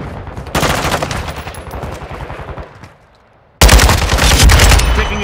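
An AK47 fires long, loud close-range automatic bursts in Call of Duty MW2 multiplayer on the Shoothouse map, a rapid stream of shots, then a brief lull before another heavy burst resumes.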